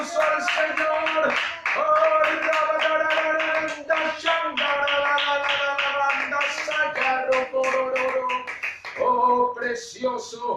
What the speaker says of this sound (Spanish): Aleluya, dale un aplauso al Señor.